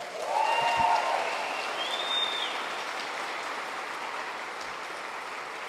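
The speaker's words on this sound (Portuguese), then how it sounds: "Aplaude sem eu pedir" A church congregation applauding during a sermon, a dense wash of clapping that swells quickly and then slowly fades, with faint voices and a brief whistle-like tone.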